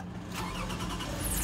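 A car engine, one with a known fault of squealing belts at startup, cranks and catches, then runs on in a close, steady, loud rumble.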